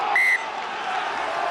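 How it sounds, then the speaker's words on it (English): A referee's whistle gives one short, sharp blast during Munster v Connacht, an Irish derby rugby match. It rings out over a steady stadium crowd roar that continues after the whistle stops. "Whistle has gone."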